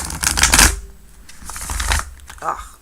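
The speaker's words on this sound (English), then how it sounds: "Every time I shuffle this deck is very buttery soft." A soft, smooth tarot deck shuffled by hand at close range in a few quick riffling bursts with short pauses between them, with no talking.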